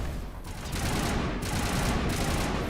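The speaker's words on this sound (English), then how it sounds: "the assault rifle is definitely a lot better than I remember it being" An assault rifle fires in Mass Effect, rapid bursts of shots rolling into continuous loud gunfire that builds after a short lull.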